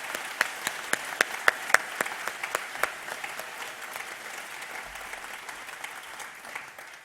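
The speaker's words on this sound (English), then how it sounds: "So one more round of applause for them." A concert audience in Berkeley, California applauds the musicians, with a few sharp, loud, evenly spaced claps standing out up close over a broad bed of crowd clapping that slowly thins and fades.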